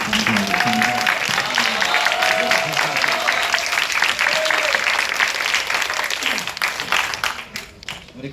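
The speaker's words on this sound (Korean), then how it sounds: "큰 박수로 맞아주시면 감사하겠습니다." Steady audience applause in a cinema at a film preview screening, greeting director Kim Deok-hyeon; the dense clapping holds evenly, with a few voices and whistles mixed in, then thins out near the end.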